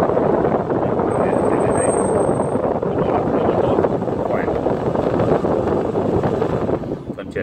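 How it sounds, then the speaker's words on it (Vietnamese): A Daikin air purifier blows a strong, steady rush of airflow, loud and close, holding a constant whooshing roar for several seconds before easing slightly at the end. "Luồng gió rất là mạnh đấy, các bạn có thể nghe qua tiếng gió."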